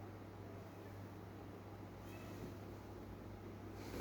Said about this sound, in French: Mon chat il gueule.